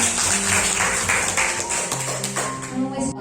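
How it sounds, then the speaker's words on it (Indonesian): Applause from teachers and parents at a school classroom session, a brief patter of clapping with some tapping mixed under a voice that continues speaking over it. "terima kasih tepuk tangan untuk Bapak Ibu."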